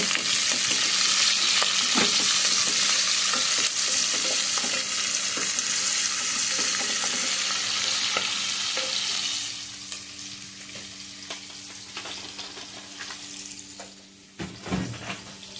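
Steady, loud sizzling of food frying in a pan with stirring scrapes, easing to a quieter sizzle with occasional clinks of a utensil.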